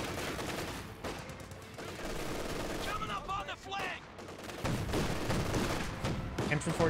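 An MG42 machine gun rattles in a Company of Heroes 2 battle, long dense bursts of automatic fire mixed with other gunshots and thuds, loud and continuous throughout.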